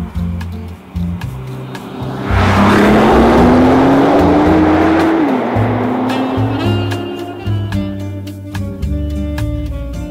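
Italdesign GTR50 engine on a mountain road outside Turin, loud and continuous, rising in pitch as it accelerates, then dropping back with a gear change and holding a steady drone over road and wind noise.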